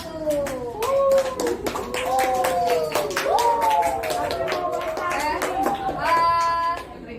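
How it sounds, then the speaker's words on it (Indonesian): Applause for a group after their presentation: brisk, continuous clapping from a room of people, with voices calling and talking over it before the clapping fades out at the end. "kita aplaus sekali lagi untuk kelompok 1"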